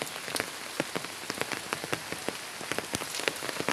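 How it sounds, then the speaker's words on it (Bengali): Light drizzling rain falls on leafy green plants and flowering shrubs, making soft, scattered patters and drips close by that keep up an irregular, continuous rhythm with no voices. "হঠাৎ করেই ঝিরিঝিরি বৃষ্টি হচ্ছে"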